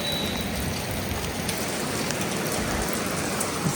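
Heavy monsoon rain pours down in a steady, dense hiss that holds at an even, fairly loud level throughout, with no voices.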